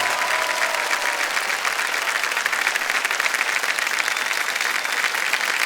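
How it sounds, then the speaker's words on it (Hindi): Sustained, dense studio audience applause on the Kaun Banega Crorepati (KBC) Season 13 quiz show set, greeting a contestant; steady and full throughout with no talking over it. "जोरदार तालियां बज जाए रश्मि जी के लिए"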